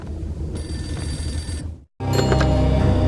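A telephone rings in the Max Payne video game: a loud, bright electronic bell that rings, cuts off briefly into silence, then starts again, with no voices.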